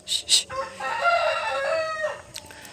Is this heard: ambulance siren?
no